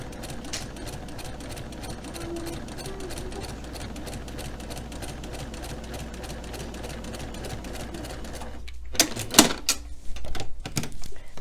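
Sewing machine running a 1/4 inch quilting seam through two pieces of fabric, a steady fast mechanical whir and patter that continues evenly, ending in a few louder clunks as it stops.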